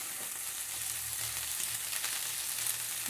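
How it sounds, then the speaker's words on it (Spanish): Pork leg frying in a splash of oil, a steady, dense hiss of sizzling fat close up, unbroken and fairly loud with no one talking. "le voy a poner un chorrito de aceite"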